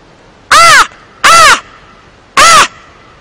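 Three loud, separate harsh caws from a gull calling over the Reno river, spaced evenly and heard up close with no voices around them.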